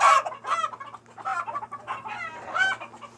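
A large purebred rooster with feathered feet clucks repeatedly in short, close, loud bursts in Riyadh, Saudi Arabia, with a steady low hum running underneath.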